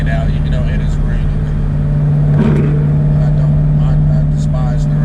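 Ford Mustang GT on drag radials driving in the rain, a steady low engine drone and road noise heard from inside the car, with a voice talking over it throughout.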